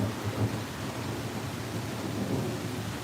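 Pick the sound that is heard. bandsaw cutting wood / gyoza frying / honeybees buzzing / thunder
thunder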